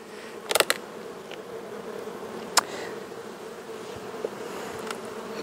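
Honeybee colonies at beehives hum in a steady, close buzz that continues throughout, with a few sharp clicks and knocks on top of it.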